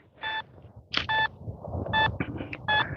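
A metal detector sounds beeping tones during a night coin hunt in winter, short electronic pings with a doubled return, heard over faint rustling and ground noise.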